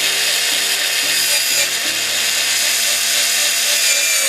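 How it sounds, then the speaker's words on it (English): Power drill boring a hole through a piece of metal conduit pipe, a steady, loud, continuous grinding whir with shifting low tones, close and alone. "next I'm going to drill me a hole in this piece of pipe"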